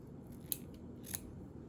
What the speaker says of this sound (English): I cut the ribbon out to a size that I like, and then I cut it again in half.